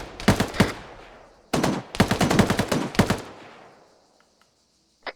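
Automatic gunfire in a military video game on shore patrol: a close, loud burst of rapid shots, then a longer sustained volley that fades into echoing tail and a final lone crack.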